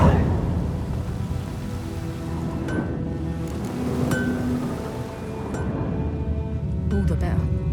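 Steady rainfall in The Witcher 3, a constant hiss of rain with a low rumbling undertone, heard close throughout with a few brief clicks and knocks near the end.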